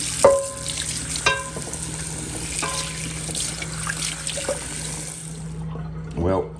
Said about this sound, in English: And then another hot water rinse to see where we're at.